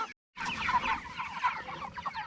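Cornish cross meat chickens cluck and chatter continuously as a close flock on pasture after a brief silent gap, a busy dense mix of calls with no talking.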